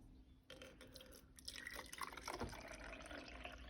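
Hot water runs into a baby bottle from close by: a faint trickling pour with small splashes and drips that grows a little fuller as the bottle fills, with no voices.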